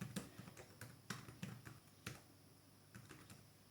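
Fingers type on the keyboard of a Pipo W3F tablet, producing a quiet, close series of irregular clicks and taps in small bursts with short pauses between them.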